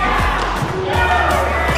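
A badminton crowd cheers and roars from the bleachers, a loud, sustained wash of voices with sharp bursts and thuds of shuttle play beneath, and a commentator speaks over it.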